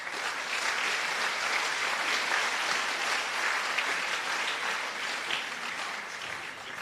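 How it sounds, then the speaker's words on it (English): Sustained applause from the audience at the FINA World Junior Open Water Swimming Championships ceremony, honouring the chairperson; dense, steady clapping filling the room without a break. "I would like us to give him a round of applause."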